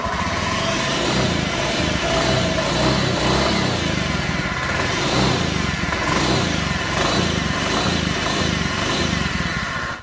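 A Honda Beat FI ESP motor scooter engine with a fault runs continuously with an abnormal steady, buzzing hum and faint rattling, close and loud throughout.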